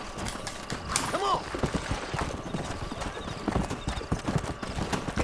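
Rapid, irregular clip-clop of horse hooves on a hard surface in Red Dead Redemption, close by, with a brief whinny near the start.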